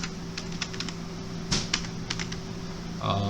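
Typing on a computer keyboard while writing Python code gives a run of quick, light key clicks at close range, one sharper tap in the middle, over a faint steady hum with no talking.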